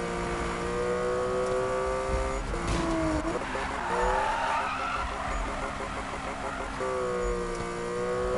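Car drifting in Need for Speed, a sustained engine drone with rising and falling revs and a stretch of tire squeal through the middle, continuous and fairly loud beneath a voice talking over it.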